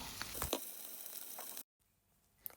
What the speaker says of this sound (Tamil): சின்ன வெங்காயம் உள்ளி வெட்டி வச்சுருக்கிறேன், அதை போட்டு வதக்குவோம்.